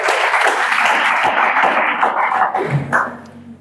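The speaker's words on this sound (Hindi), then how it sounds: "तानिया के लिए ताली बजाओ भाई।" A coaching-class group for a Chhattisgarh police recruitment exam claps for a student named Tania. Dense, steady applause fills the room for about two and a half seconds, then thins out and fades.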